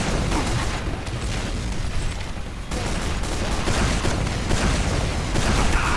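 A minigun in Team Fortress 2 pours out dense, continuous rapid fire for several seconds, loud and unbroken apart from a brief dip midway, set among the din of combat.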